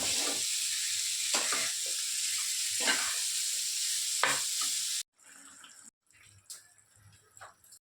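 A jackfruit curry in a pan crackles and sizzles steadily while a utensil scrapes through it, then the sound cuts off and returns quieter and more broken, with soft liquid bubbling and occasional clinks.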